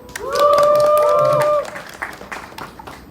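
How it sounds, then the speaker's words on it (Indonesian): An audience breaks into applause at a live album listening session, with bright whistles on top, then settles into scattered claps and crowd noise. "Tepuk tangan dulu dong."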